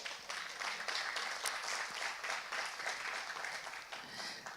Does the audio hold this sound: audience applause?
yes